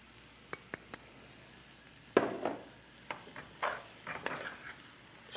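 Roux being stirred in a pan for Cajun cooking, a spoon scraping and clinking against the pan in irregular strokes with a soft sizzle underneath, close and fairly quiet, with no talking.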